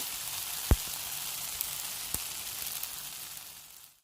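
A rice stuffing for Arabic-style zucchini is stir-fried in a pan, giving a steady, close sizzle with a couple of sharp utensil clicks before it fades out at the end.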